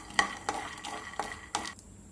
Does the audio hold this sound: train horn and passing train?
no